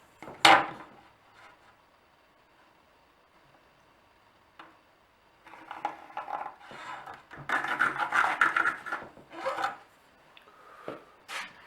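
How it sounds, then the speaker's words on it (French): A jigsaw cuts a notch into a wooden board: a sharp opening burst, a quiet pause, then an intermittent rasping cut in short, uneven bursts, close up and moderately loud, with no voices. "Donc on va découper l'encoche à scie sauteuse"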